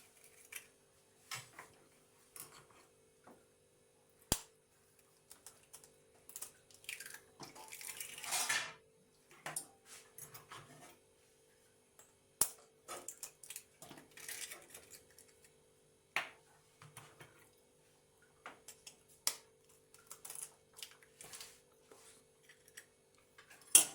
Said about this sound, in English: So here I'm beating the eggs so as to have a uniform mixture.